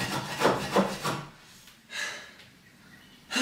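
A tiny hand saw cuts through wood for a homemade guillotine, with several quick rasping strokes up close, then a pause and a few more scraping strokes.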